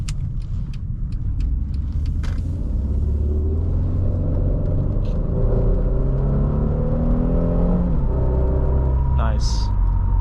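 A 2015 Mercedes-Benz E 350 accelerates from inside the cabin, its engine rumble rising steadily in pitch through a gear change, with a driver talking over the smooth climbing drone.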